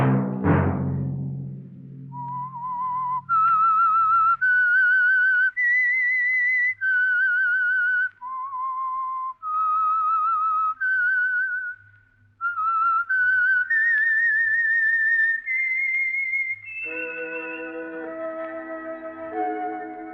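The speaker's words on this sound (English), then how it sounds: "Let that whistle be your signal" A clear, loud whistled melody, the theme of The Whistler radio program, with rising and falling phrases, carried alone after a brief low thump at the start, ending in a fuller musical chord.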